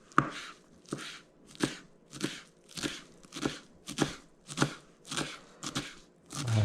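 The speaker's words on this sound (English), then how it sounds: "Now let's cut these into little pieces." Knife chopping food into small pieces on a board, about a dozen steady, evenly spaced cuts close up, with no talking.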